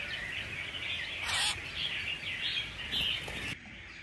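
Red-whiskered bulbuls chirp repeatedly in short bright bursts, a captive bird group calling at moderate distance over a faint background hiss.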